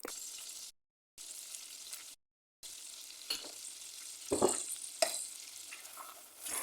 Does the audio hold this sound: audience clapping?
no